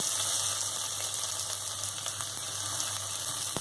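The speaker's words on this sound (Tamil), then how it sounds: "கத்திரிக்காய் நல்லா எண்ணெயிலேயே வதங்கட்டும்" Brinjal pieces fry in oil for a tamarind curry with drumsticks, giving an even, moderately quiet hiss and bubbling that runs unbroken throughout.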